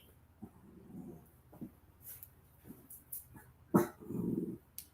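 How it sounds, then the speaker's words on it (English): Dogs bark in short bursts at a moderate distance, several yaps scattered across the stretch, with a louder cluster of barking and growly yelps near the end. "My dogs are barking, so I apologize if you hear that in the background."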